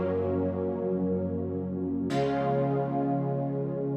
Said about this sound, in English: I needed a little bit more of like that ambient kind of Rhodes sound